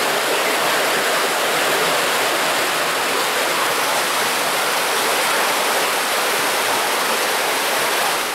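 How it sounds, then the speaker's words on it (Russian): Khapilovka, an underground river in a Moscow sewer collector, rushes as a loud, dense, unbroken roar of water, steady throughout with no voices. "Конечно, это очень полноводная, очень сложная река"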